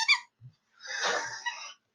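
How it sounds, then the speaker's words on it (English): A squeaky toy gives a short squeak, then a longer, wheezy squeal a moment later, both close and fairly quiet in an otherwise silent room. "I'm squeaking my squeaky toy."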